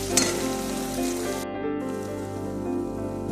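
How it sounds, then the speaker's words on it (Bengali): Capsicum and tomato frying in oil in a pan, a loud continuous close sizzle with a dense crackling hiss that carries on without pause for a few seconds. "দিয়ে দিলাম ক্যাপসিকাম আর টমেটো দিয়ে একটুখানি নাড়তে থাকবো"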